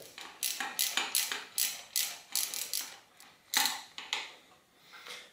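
A wrench ratchets as a screw is turned into a RockShox Quadra 21R bicycle suspension fork, giving a string of quick, close metallic clicks in short, uneven bursts.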